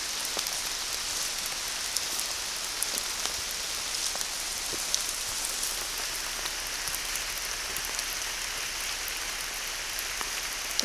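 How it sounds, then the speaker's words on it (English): Steady heavy, warm rain patters densely on leaves and ground in Whitehouse Woods, Lamlash, a constant hiss with occasional louder drips, no voices. "it's raining pretty heavily."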